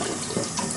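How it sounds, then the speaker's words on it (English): Water from a kitchen tap runs steadily as hands are rinsed under it, a close, continuous splashing hiss with no voices. "Just let me rinse my hands."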